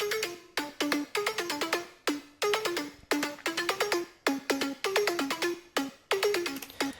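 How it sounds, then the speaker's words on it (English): Short, bright synth plucks from the Monster Train 2 soundtrack bounce in a quick repeating melodic pattern, each note decaying fast, loud and alone without voices. "The very last part to this are these synth plucks"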